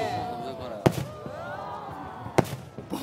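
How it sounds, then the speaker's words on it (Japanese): Fireworks at the Lake Suwa fireworks festival thump out as two sharp, loud booms about a second and a half apart over a murmuring crowd, with whistling streaks and crackle between them. "なんか低い花火"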